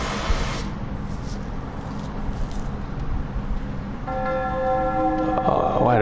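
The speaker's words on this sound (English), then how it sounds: "Why the bell gotta ring?" A bell rings in the horror video game Wick on PS4, a sustained ringing tone that enters late and swells toward the end over a dark, noisy game soundscape.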